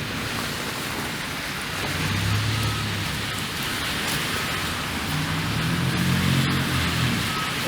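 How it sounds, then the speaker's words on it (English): Freezing rain falls steadily on Bloor Street in Toronto during a winter storm, a continuous close hiss of drops on wet, slushy pavement with low traffic rumble swelling underneath and no talking. "the freezing rain seems to be letting up"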